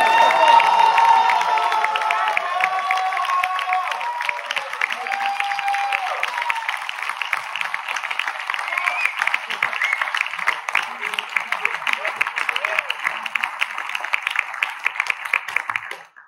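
A theatre audience gives sustained, dense applause after a play, many hands clapping steadily for the whole stretch, mixed at first with voices and cheering from the crowd.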